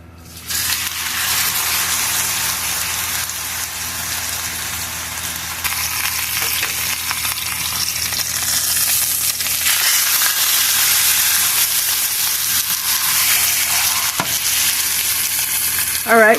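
A beef roast sears in a hot pan on the stove, a loud, dense, continuous sizzle and crackle heard up close, with no voices.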